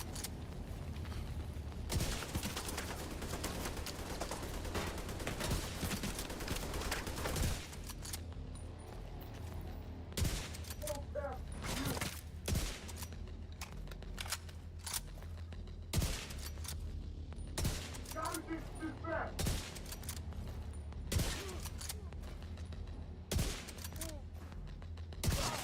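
Sniper rifle shots in a shooting video game, sharp reports spaced out across a dense, continuous backdrop of game gunfire and noise, loud and up close.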